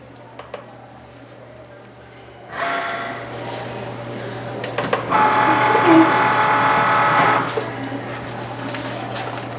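Cricut Maker cutting felt with a rotary blade, a steady mechanical whirring hum that grows louder as the carriage moves, with faint clicks, while someone talks over it.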